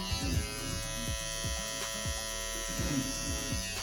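An electric hair clipper buzzing steadily near the head during a self haircut, its hum dipping and shifting in a quick rhythm as it passes through hair, with no speech.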